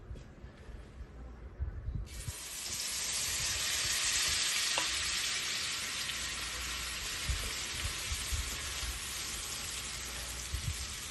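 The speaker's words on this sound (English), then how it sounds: "I want you to hear this batter going in." Cornbread batter pours into a hot pan and a loud, steady sizzle rises after a couple of seconds, continuing without a break.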